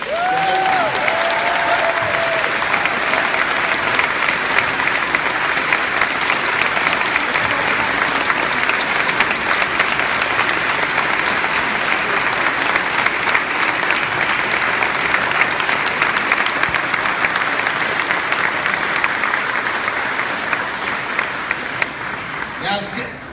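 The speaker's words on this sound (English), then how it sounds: "give a big round of applause to College Park Baptist Church" Sustained applause from a large crowd at an outdoor anti-HB2 rally, dense clapping held steadily for over twenty seconds before tapering at the end, with faint voices and cheers mixed in.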